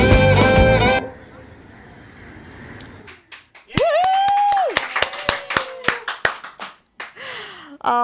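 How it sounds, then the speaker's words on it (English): After music cuts off at a Bandra Christmas show, scattered hands clap for the Santa's Rockers dancers in sharp, uneven claps. A rising and falling whistle-like tone sounds among them. "They certainly deserve a huge round of applause"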